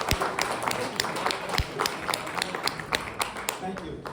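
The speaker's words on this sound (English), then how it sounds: "Let's give him a round of applause for Marty." An audience at a summit presentation in Davos breaks into applause, a run of crisp, moderately loud claps with distinct sharp hits over a steady patter, heard from within the room.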